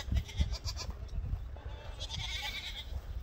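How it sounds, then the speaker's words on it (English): Newly weaned baby goats bleat repeatedly in the background on a farm near stored alfalfa hay, faint and somewhat distant, several overlapping calls over steady outdoor noise. "my baby goats just got weaned, so they all think they're dying"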